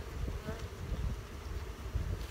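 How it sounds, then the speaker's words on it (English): Honey bees buzz around a hive frame from a queenless spring colony in a steady, dense hum that is close and continuous, with low rumbling noise underneath. "These bees are going to smell the queen, they're going to come up, they're going to slowly unite with this top colony"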